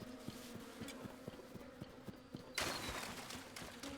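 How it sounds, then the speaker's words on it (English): Buzzing of bees in a video game, a steady pulsing drone with regular beats, rising into a louder, brighter rush of sound partway through. "More bees."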